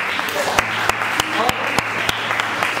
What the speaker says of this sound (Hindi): तो प्लीज तालियों से स्वागत करिए।